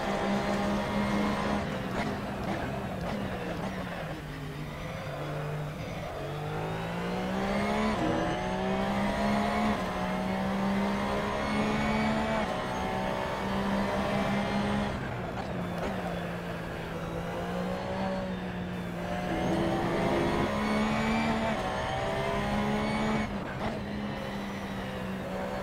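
Race car at full throttle around the Red Bull Ring in Assetto Corsa on PS4, engine howling continuously with repeated rising pitch sweeps through the gears and brief dips at shifts, loud and close throughout.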